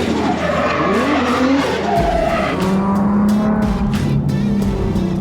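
An Audi R8 V10 Plus sports car driving hard, its engine roaring loud and steady with tires squealing across the whole stretch, recorded close with no voices.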